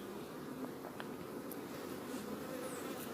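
A steady, dense hum of many honeybees buzzing continuously at close range in a hive, with occasional louder individual buzzes passing by.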